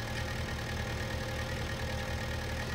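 A farm tractor engine in Farming Simulator 19 runs at a steady idle, with a constant low rumble and mid-range drone that holds unbroken for the whole stretch, with no voices over it.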